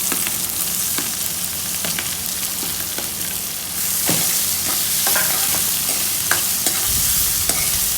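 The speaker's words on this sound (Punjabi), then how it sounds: "ਹੁਣ ਅਸੀਂ ਇਹਦੇ ਵਿੱਚ ਪਿਆਜ਼ ਪਾਵਾਂਗੇ" Garlic and ginger fry in a pan for paneer bhurji, a steady close hiss with occasional spoon taps, then the sizzle surges louder as onions go in, followed by scraping stirs.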